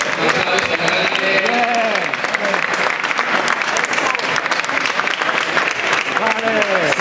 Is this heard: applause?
yes